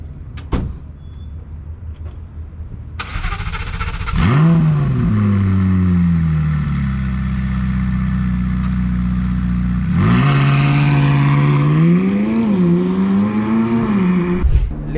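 A McLaren 675LT Spider V8 starts up with a sharp burst, then its engine settles into a loud, close idle and rises and falls through throttle blips and revs as the car pulls away.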